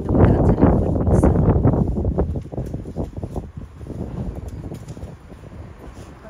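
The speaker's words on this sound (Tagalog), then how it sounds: "Ang lamig na talaga, malamig na yung hangin." Cold wind blows outdoors in England, buffeting the microphone in loud, uneven rumbling gusts that ease off somewhat toward the end.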